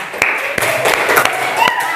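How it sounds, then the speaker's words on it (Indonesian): A class claps hands for a pupil, a short burst of applause from a small group heard close in a classroom with voices mixed in. "Tepuk tangan buat anak."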